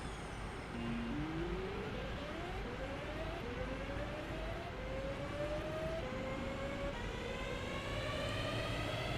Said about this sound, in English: I'm going to listen to the 323 departing, which is a very nice sound